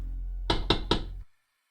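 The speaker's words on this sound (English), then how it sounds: "Only a few seconds passed between my knock and the door opening." Three quick knocks on a door in a steady rhythm, close and fairly loud, with a hum underneath that stops abruptly right after.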